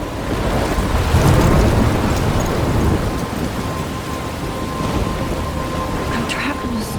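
A thunderstorm in the video game Life is Strange, with a loud, continuous roar of heavy rain and wind and a deep rumble swelling early on, then settling into a steady wash.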